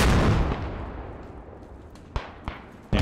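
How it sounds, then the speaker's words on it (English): A shell explodes overhead in the WW1 first-person shooter Beyond the Wire: a loud broadband blast at the start decays into rumble, followed by sharp distant gunshot cracks. "it definitely flew over my head and exploded"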